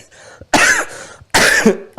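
Two harsh, loud coughs close to the microphone during a live Islamic lecture, separated by a short pause, with a faint voice before the first.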